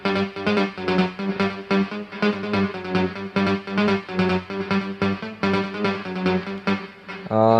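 A synth melody plays back in music production software, a bright, evenly pulsing line of repeated notes with steady rhythm, ending on a rising sweep, alone without talk.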